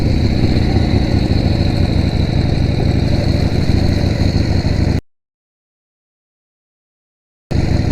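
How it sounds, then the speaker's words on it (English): A 1976 Harley-Davidson Sportster with a roughly 1000cc engine running on the road, giving a loud, steady, continuous engine drone for about five seconds, then a sudden cut to silence before the sound briefly returns. "1976 Harley-Davidson Sportster, 1000cc or just about."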